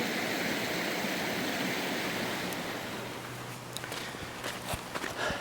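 A creek in Murray Canyon flows with a steady hissing rush, near and fairly quiet, easing slightly midway as a few crunching steps on the ground come through.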